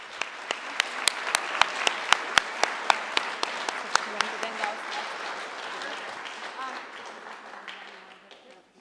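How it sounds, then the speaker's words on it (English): An audience at a school senior honors night claps in sharp, rhythmic bursts at first, then the applause thins into scattered, softer clapping that fades out. "if we can please give them a round of applause"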